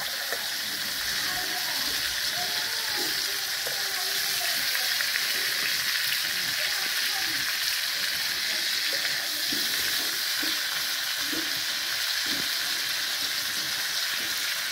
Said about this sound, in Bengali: ফুলকপি ভাজা জোর কদমে চলছে,